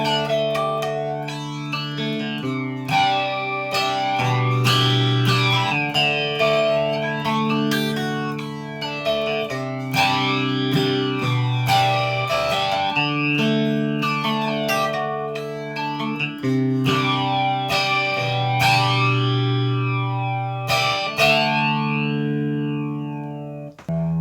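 Electric guitar run through a Chaos Audio Stratus Wormhole flanger stacked with distortion, playing loud sustained chords and riffs with a sweeping, swirling comb-filter shimmer, steady and continuous with no talking.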